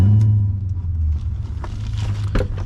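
A 1998 BMW 540i with a six-speed manual rumbles as its V8 catches and settles into a low, steady idle, loud and close, with some light clicks and crackles on top.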